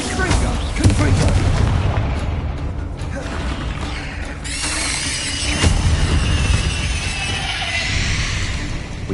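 Repeated Confringo blasting spell explosions in the video game Hogwarts Legacy, booming blasts and crackling impacts layered over continuous combat noise, with a voice calling out spells.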